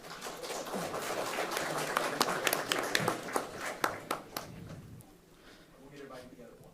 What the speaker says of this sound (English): Give J.D. a big round of applause